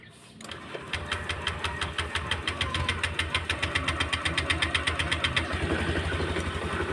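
A Honda Click 125 scooter engine idles steadily close by, its rapid even putter ticking along with a faint whine above, starting up at the beginning and running on alone without talk.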